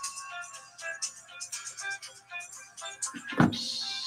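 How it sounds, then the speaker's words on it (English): A phone ringtone plays a tinkling electronic melody of repeated tonal notes, close and moderately loud, ending in a brief thump. "And that's that phone again."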